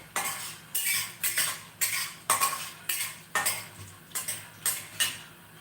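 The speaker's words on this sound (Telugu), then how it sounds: "మళ్ళీ ఒక మిరపకాయ వేస్తాం వేసి బాగా వేయించాలి" A metal spoon scrapes and clanks against a pan while chili fries, about a dozen sharp stirring strokes in an irregular rhythm over a faint sizzle, close and clear.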